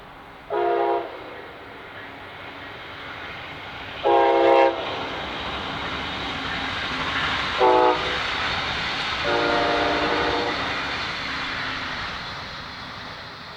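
A northbound Brightline passenger train passing through a rail junction in Brevard County, Florida, sounding several loud horn blasts over a steady rumble of the train rolling by.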